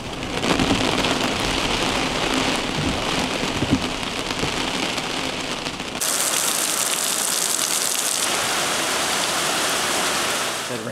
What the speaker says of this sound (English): That rain is crazy.